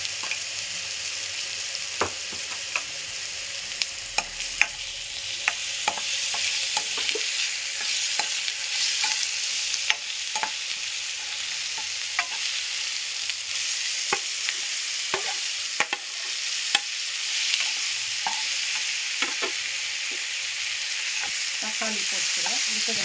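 Garlic and ginger sizzle steadily in a hot pan, with frequent scraping clicks as a spoon stirs them, continuous and close for the whole stretch.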